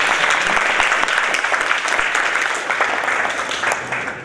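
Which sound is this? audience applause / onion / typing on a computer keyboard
audience applause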